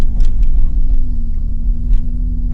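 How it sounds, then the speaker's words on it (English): A truck's engine rumbles steadily up close while driving through deep snow in the dead of winter, a low continuous drone with slight uneven lurches and no voices. "That's not normal, like tires and snow jerking."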